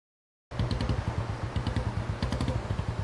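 A motorcycle engine starts up suddenly and runs with a pulsing, throbbing putter, close by and fairly steady.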